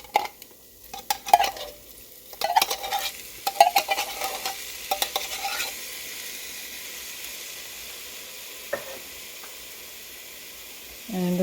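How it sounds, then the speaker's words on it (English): Clams and their liquid are stirred into a New England clam chowder in a pot, with several close clinks and scrapes of stirring followed by a quieter simmering hiss and a late clatter. "Stir clams and clam liquid."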